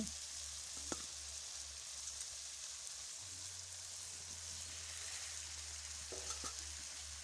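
Prawns and potatoes frying with green jackfruit in a pan for a Bengali-style curry, a faint, even hiss close by with a couple of soft clinks of stirring, no voices.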